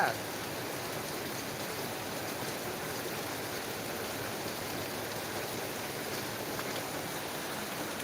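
Heavy rain falling in Tumakuru, heard as a steady, dense broadband hiss that holds at an even level for the whole stretch with no pauses.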